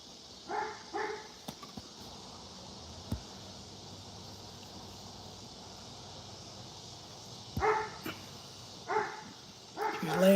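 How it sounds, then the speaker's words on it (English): A pet dog lying on her bed guarding the yard gives a few scattered barks and yips, two short bursts at the start and a cluster near the end, fairly distant over steady background hiss with long quiet gaps. "That's the dog."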